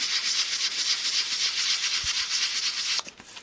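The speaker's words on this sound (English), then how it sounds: "sand the surface of each piece using a medium grade sandpaper and small circular motions" Medium-grade sandpaper rubs in small circles over small wooden dolls house fireplace pieces, a steady close rasping hiss with a gentle rhythmic pulse that stops abruptly near the end.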